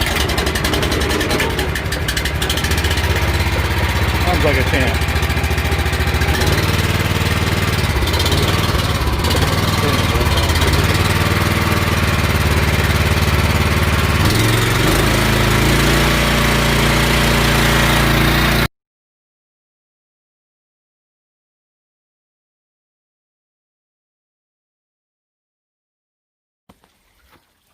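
Bulldozer engine started and throttled, roaring loudly and steadily for most of the stretch before cutting off abruptly into silence, with a faint brief sound near the end.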